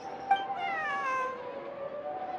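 A cat in Genshin Impact meows in one drawn-out, wavering call that starts sharp and bends downward, fairly close and clear with faint game ambience behind it and no talking.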